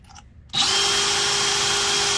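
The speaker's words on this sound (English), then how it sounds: "You want to stand the drill up on its side." A power drill, stood on its side with a brass chip catcher, whirs into life after a brief quiet moment and keeps running at a steady, loud pitch nearby.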